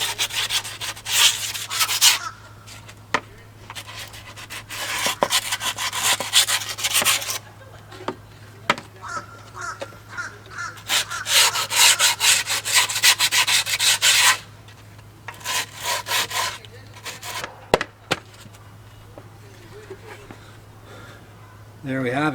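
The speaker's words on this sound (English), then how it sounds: "Do a little sand." Hand sanding on a wooden skateboard part, repeated bursts of scratchy rubbing strokes with short pauses between, close and fairly loud over a steady low hum.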